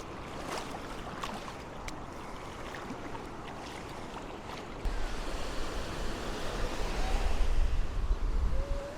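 Gulf waves washing up on the beach at Gulf Shores, Alabama: a steady broad hiss of surf that grows louder and rumbles in the second half, with no voices.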